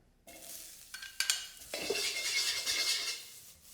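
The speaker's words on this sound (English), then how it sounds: "Smoking hot, no extra oil required, ginger, garlic, spring onion." Ginger, garlic and spring onion hit a smoking-hot, well-seasoned wok with a burst of sizzle. Sharp metallic scrapes and clanks of the utensil against the wok follow, close and loud with no talk.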